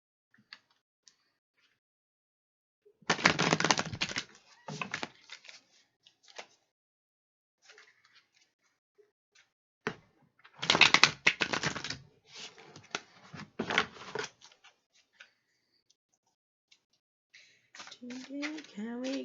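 A deck of divination cards is shuffled in two quick riffling bursts separated by quiet gaps, with scattered soft taps and handling noises, close and fairly faint, and a voice speaking briefly at the end.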